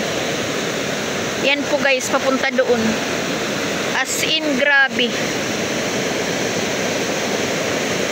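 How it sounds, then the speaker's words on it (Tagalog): A loud, continuous roar of rushing water fills the scene as a stream swollen by rain floods down from the fields, with a person speaking over it in two short stretches. "Lumakas po yung ng sapa galing sa bukid"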